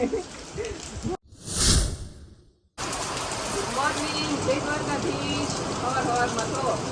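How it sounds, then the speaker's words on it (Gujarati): Morning rain falls in Surat as a steady broad hiss of drops, briefly broken near the start by a whooshing burst and a moment of silence, then returning evenly and close. "વરસાદ ચાલુ થઈ ગયો છે"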